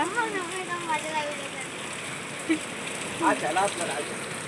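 Rain falling at a beach, a steady hiss of drops over wide, even background noise, with people talking faintly in the clip.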